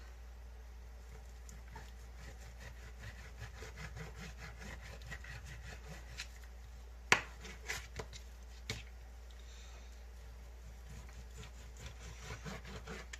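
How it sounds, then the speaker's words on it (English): A knife slices beef into strips on a cutting board, with quiet, repeated soft sawing and rubbing strokes and a few sharper taps of the blade against the board near the middle. "I'm going to cut mine into strips."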